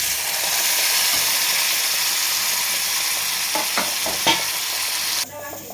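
Tomato dal with curry leaves is stirred in a hot pan, making a constant close hiss and sizzle with a few scraping strokes near the end and no voices.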